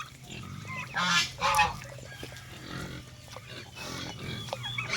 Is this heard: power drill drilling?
no